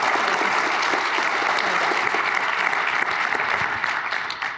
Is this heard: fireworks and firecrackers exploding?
no